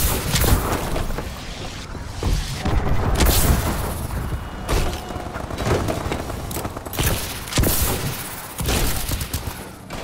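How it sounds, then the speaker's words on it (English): Missile strikes hit in Call of Duty: Advanced Warfare gameplay as a dense barrage of loud booms and gunfire-like blasts that rumble continuously throughout. "Friendly missile strikes inbound."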